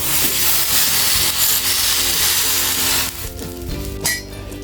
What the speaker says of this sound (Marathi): आता हे थालीपीठ तव्यावर घालून घेऊया